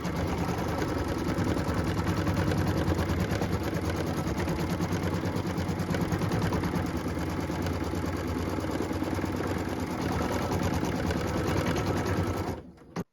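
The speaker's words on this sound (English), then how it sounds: "I'm just going to put this in my machine and then we can stitch the placement line" A sewing machine runs steadily in one long, continuous close-up whir, stitching a placement line in red thread on a Christmas tree skirt, then stops abruptly at the end.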